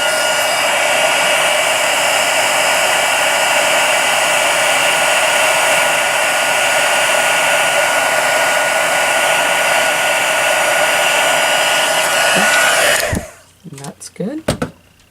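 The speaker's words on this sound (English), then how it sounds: "I'm just going to bring in my heat tool really quick." A handheld craft heat tool blows steadily and loudly while heat setting embossing on a handmade card, a constant whooshing roar that runs without a break for about thirteen seconds before cutting off, followed by a few clicks and handling noises.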